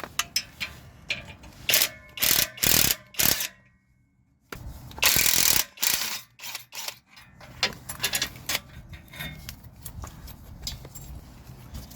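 Hand ratchet clicking in repeated bursts while backing bolts out of a catalytic converter on a Scion tC, with loud close metallic clatter, a short pause, then lighter intermittent tool and metal handling noises.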